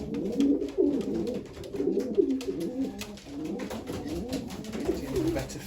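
A mealy cock racing pigeon coos in low, throaty rolling phrases, close and fairly loud, repeating steadily over several seconds with slight rustling in the background.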